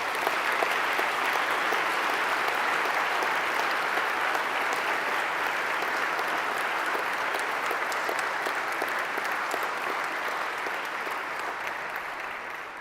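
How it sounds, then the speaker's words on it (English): Sustained audience applause at a testimony gathering, a thick, steady wash of many hands clapping that carries evenly for the whole stretch and tapers slightly at the end. "I would like, please, that we applaud his divine mercy at this very moment."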